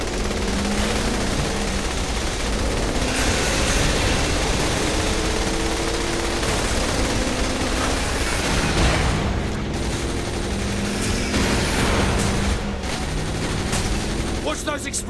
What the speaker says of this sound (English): Watch those explosions.